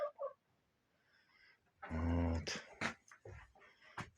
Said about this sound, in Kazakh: бос жүр тауықтар осылай жақаттанып